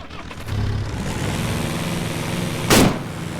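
Motorcycle engine in a vehicle-focused video game, a steady low engine drone running throughout, with a brief louder burst near the end.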